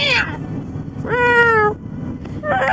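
A house cat gives a clear, close meow that rises and then falls, with shorter meow fragments just before and after it, over a low steady background rumble.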